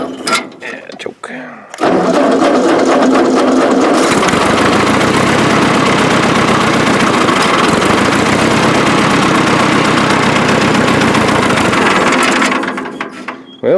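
A Ford 8N tractor engine cranks and catches, then settles into a loud, close, steady chugging idle that runs on for about ten seconds before fading slightly.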